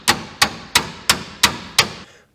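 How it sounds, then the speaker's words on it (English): A hammer strikes six times at an even, steady pace, driving a dowel pin into the axle of a 1964 Jeep CJ5. Each blow is a sharp, close, ringing impact, and nothing else is heard. "a couple whacks with a hammer and a little bit of a impacto-dacto, and that dowel pin went up into the locating hole on the axle"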